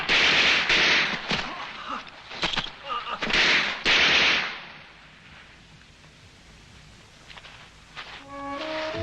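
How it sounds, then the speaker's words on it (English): Gunfire in a 1950 WWII war film: a run of loud, sharp bursts and single shots close together over the first four seconds, then a quieter stretch with faint rumbling and a brief musical tone near the end. "Shoot, Billy! Shoot!"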